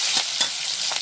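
Green chili hitting hot oil in a pan with tomato and cumin for a thin tilapia and potato fish broth, giving a loud, steady close sizzle with a few stirring swells throughout.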